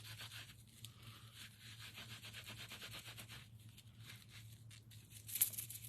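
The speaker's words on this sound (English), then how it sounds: "And again, just giving it a light rub." A baby wipe rubbed lightly over an art journal page: soft, continuous scuffing strokes, faint and close, with a steady low hum underneath.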